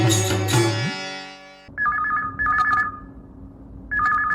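A phone rings in repeated electronic bursts, following a short musical tone at the start; no one speaks.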